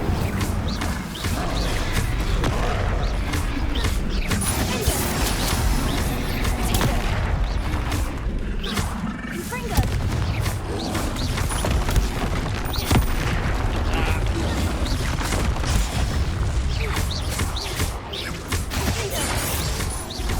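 Confringo fire spells explode again and again in Hogwarts Legacy, a dense, unbroken barrage of loud booms, crashes and whooshes, with a voice breaking through now and then.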